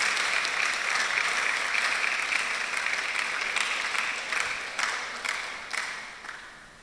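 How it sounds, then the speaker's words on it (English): Audience at a public speaking competition semi-final bursts into steady applause, a dense even wash of clapping that thins out and fades toward the end with a few last claps. "Let's give them a round of applause."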